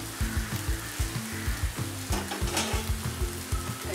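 Schezwan fried rice is stir-fried in a pan, giving a steady sizzle broken by quick, rhythmic scraping strokes of a spatula against the metal, close and busy with no talking.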